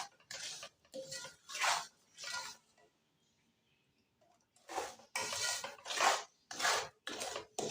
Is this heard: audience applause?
no